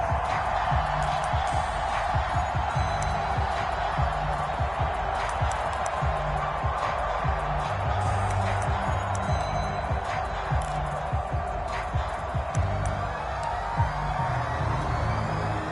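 A stadium crowd in an American football video game cheers and roars as the defense holds on the opening drive, a dense, steady wash of crowd noise with a faint voice underneath.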